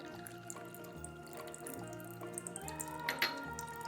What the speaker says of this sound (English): now we need to open this part and pour water